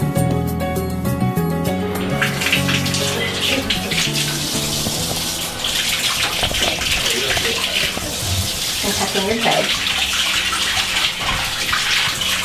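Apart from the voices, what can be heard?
water filling a bathtub during a bath photo shoot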